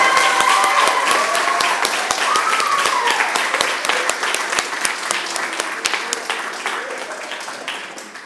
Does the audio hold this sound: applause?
yes